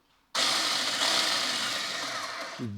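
A 6-inch mini cordless electric chainsaw with a brushless motor bites into a log, a sudden loud buzzing whine that holds steady for about two seconds then drops as the motor winds down.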